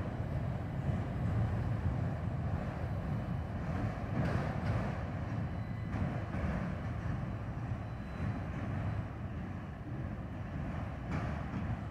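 The tail end of a freight train rolls over a trestle, a steady low rumble with a faint metallic clatter that holds at a moderate distance throughout.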